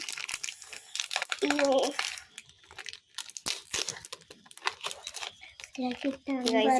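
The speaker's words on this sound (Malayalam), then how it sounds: "ഇത് എന്താ എലൈറ്റ് ഡ്രീംസ് ചോക്കോ ബ്രൗണി ആണ് കേട്ടോ ഞാൻ അൺബോക്സ് ചെയ്യാൻ പോകുന്നത്" An Elite Dreams Choco Brownie plastic packet crinkles and crackles loudly up close as it is torn open and unwrapped, with people talking over the rustling.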